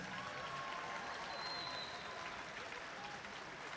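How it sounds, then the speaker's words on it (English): Steady applause from a tournament crowd at a district robotics competition event in Columbus, a dense, even wash of clapping that continues throughout at moderate distance with no talking. "Let's have a round of applause for all the teams competing here in Columbus."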